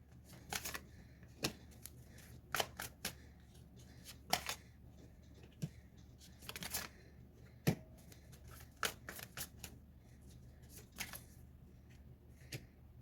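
A tarot deck being shuffled by hand in a quiet room, with soft riffles and sharp card snaps at uneven intervals, close and fairly faint.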